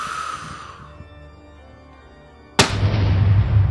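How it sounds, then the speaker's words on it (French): A sudden loud orchestral burst like an explosion cuts in after a quieter tonal passage, followed by a sustained roaring rumble. "C'est l'explosion."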